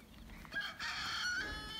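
A rooster crowing close by outdoors in the countryside, one drawn-out loud call after a short cluck.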